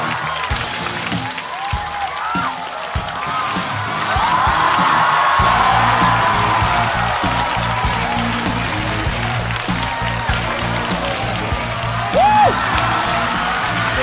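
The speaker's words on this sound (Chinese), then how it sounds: "掌声欢迎。" An audience at a stand-up comedy show bursts into applause and cheering, quiet at first and then swelling into sustained clapping with a few whoops, loud and close in the hall.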